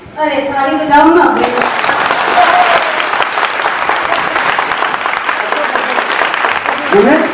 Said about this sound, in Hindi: अरे ताली बजाओ ना।